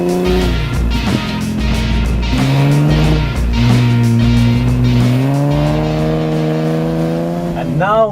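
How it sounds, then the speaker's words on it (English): A Gazelle X engine revs hard under steady acceleration, its rising, sustained drone loud and close, with a brief squeal near the end. "the highlight is the crackling sound that exhaust system makes while"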